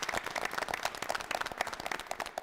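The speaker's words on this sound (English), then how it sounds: "Give them another round of applause." A game-show audience applauds a team, dense steady clapping from many hands filling the room without pause.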